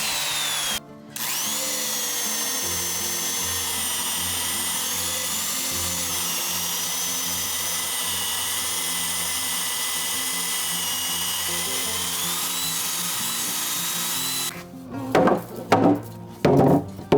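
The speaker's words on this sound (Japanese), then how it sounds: "土台はこの一箇所に集めてね、ドリルの穴を開けます" Power drill boring holes through wooden sill plates during house foundation framing, a steady loud whine running continuously for about fourteen seconds, then a few short bursts and knocks near the end.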